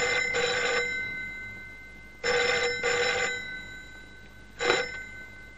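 A telephone rings at a harbour police station: bright electronic double bursts, then a pause, a second double burst and a short final ring, each clear and close with no talking over them.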